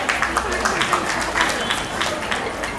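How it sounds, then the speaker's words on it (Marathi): Audience applause for a couple at a Marathi talk event, a steady wash of many hands clapping at close range with no pauses, filling the whole moment. "तर दोघांसाठी एकदा जोरदार टाळ्या होऊन जाऊ द्या"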